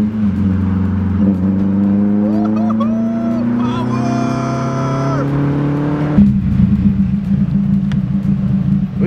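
A car engine idles and hums close by, steady and loud, with a higher whine that rises and falls before the tone drops to a lower rumble partway through; a voice speaks over it.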